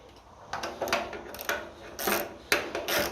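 Tightening a bolt on the fuel system of a 1955 Ferguson 20 TEF diesel tractor: a series of short metallic ratcheting and clicking bursts, close by, in uneven spurts with brief pauses between them.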